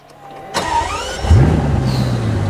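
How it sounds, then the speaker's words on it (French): A Bugatti Divo's starter whirs and whines, then the engine catches with a deep roar and settles into a low, steady rumble. "Le démarreur qui fait ce bruit si typique des Bugatti depuis l'époque des Veyron"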